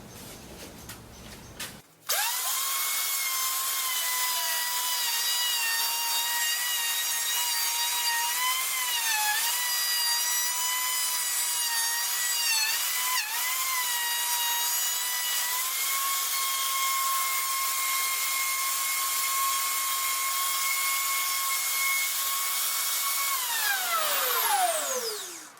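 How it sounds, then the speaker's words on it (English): Wood router cutting and scalloping the inside of a wooden bowl against a template, a loud, high, steady whine that starts abruptly, wavers in pitch as the bit loads in the wood, then winds down at the end. "I'm just going to run around the template and start scalloping the material away"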